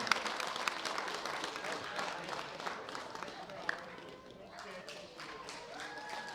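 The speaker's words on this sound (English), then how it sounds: "Big round of applause for our winners, three fine gentlemen." Audience at the 2016 World Bench Press Championships applauding the winners of a masters men's weight class, a moderate patter of clapping from a crowd in a hall, steady then thinning, with a voice speaking over it.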